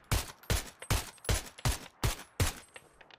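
Seven sharp, evenly spaced gunshots from PUBG ring out in quick succession, each with a punchy low thump and bright crack, played alone and fairly quiet overall.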